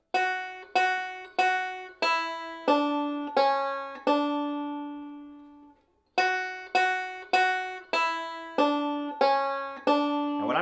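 Bluegrass banjo picking the Christmas carol Hark! The Herald Angels Sing melody, solo and close, with evenly spaced plucked notes, a note held and fading out, then the picked phrase resuming.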